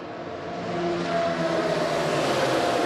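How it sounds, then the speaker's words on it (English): A pack of NASCAR Camping World Truck Series pickups roars past at over 190 mph at Daytona, a dense rising engine drone building and holding loud and steady, with no voices over it. "Listen to those trucks sing as they go by."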